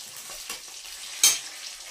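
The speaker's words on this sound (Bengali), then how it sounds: "এই দেখো ভেজে নিচ্ছি, আমি ফ্লেমটাকে কমিয়ে দিয়েছি" Food fries in a pan over a low flame with a steady, gentle hiss, broken by a couple of brief, sharper sputters partway through.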